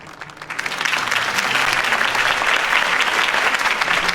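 Steady crowd applause in the video game Batman: The Telltale Series, a dense wash of clapping that swells in after a brief quieter start and holds loud and even throughout.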